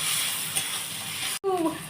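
Steady hissing sizzle of onions, green peas and other vegetables frying in a kadai, fairly close, broken by a brief cut near the end followed by a short voice.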